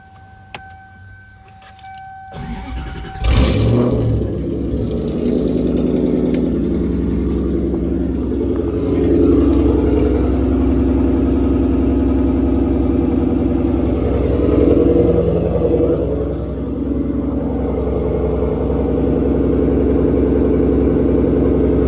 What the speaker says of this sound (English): show you guys a little cold start video. It's really loud though